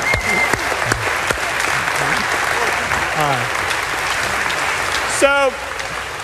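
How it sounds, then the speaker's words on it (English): A lecture-hall class applauds its volunteers in a steady, dense round of clapping, with a few voices and a brief squeak over it near the end. "perhaps coupled with a round of applause"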